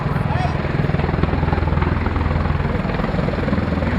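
A V-22 Osprey tiltrotor flying at the RIAT air show gives a loud, steady rotor throb with a constant low engine drone, while a voice talks over it.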